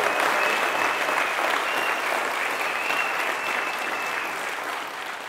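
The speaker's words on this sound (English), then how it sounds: "You can give me a round of applause." Audience applauding a Tembisa-born entrepreneur's news of nationwide filling-station distribution, a dense, steady wash of clapping that holds loud throughout and eases slightly toward the end, with no voices over it.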